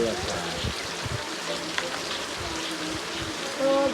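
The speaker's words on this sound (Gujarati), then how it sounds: "આજ તો ગાઈસ વરસાદ ચાલુ છે" Rain falling over a farm field, a steady close patter and wash of drops that continues throughout, with some low voices in the background.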